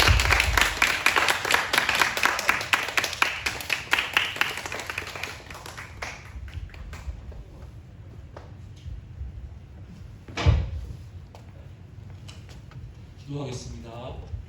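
A church youth service congregation claps to welcome a guest pastor; brisk close applause fades out over about six seconds, followed by scattered taps, a bump, and quiet room sound with faint voices.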